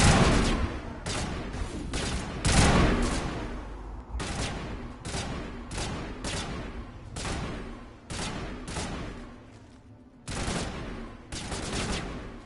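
Gunfire in the Mass Effect video game, with repeated loud bursts of rapid shots broken by short pauses, dense and close over a steady background.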